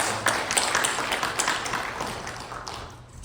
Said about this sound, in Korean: 자 우리 박수로.